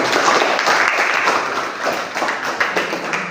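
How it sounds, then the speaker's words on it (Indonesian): Students in an Indonesian English classroom clap for a classmate, a dense burst of many hands that is loudest at the start and thins slightly toward the end, with no talking over it. "Tepukan untuk Rizky."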